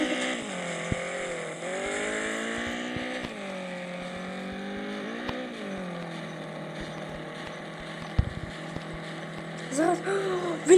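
Cars in a racing video game rev and boost with nitro, engine tones rising and falling in repeated sweeps, fairly quiet, with a few short clicks and a louder burst at the end.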